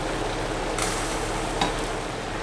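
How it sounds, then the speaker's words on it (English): Cooked pasta is stirred into a mushroom and white wine cream sauce, with a steady soft sizzle and wet scraping running continuously, close and even, and no talking. "And again, just mixing it all together."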